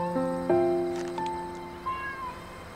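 Several kittens meow in a series of short, high-pitched calls, close and fairly loud, with overlapping cries at the start and a few more later, with no talking.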